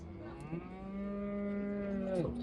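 A cow at a livestock market in Karabulak gives one long, drawn-out moo, rising in strength and holding steady before dropping off at the end, close and clear with no talk.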